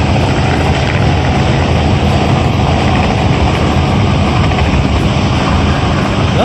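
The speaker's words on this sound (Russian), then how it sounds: "Вертолетики летают над трассой." A helicopter flies low over a highway in Texas and comes down to land nearby, its rotor and engine noise loud, close and continuous, with a faint rhythmic beating.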